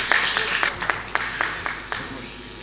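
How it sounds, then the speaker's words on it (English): A small audience at a formal ECOWAS parliamentary session gives a round of applause to welcome a Ghanaian minister, with sparse, distinct claps at an uneven rhythm in a reverberant hall and a voice talking beneath them. "So with a round of applause, let's welcome Simon to take his seat."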